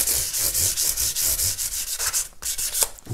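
Fine abrasive paper rubs by hand along guitar frets while polishing a fret dressing job on an ES 335 build, giving rapid, rhythmic back-and-forth scratching that is close and even.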